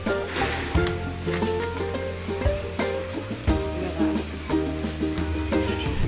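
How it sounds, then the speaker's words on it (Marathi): Laddoo dough roasting on a hot pan after being flipped, a continuous crackling sizzle with a low background hum and intermittent soft taps. "दुसऱ्या साईडला मी आता पलटी केलेली आहे त्याला चांगला आपण भाजून देऊया"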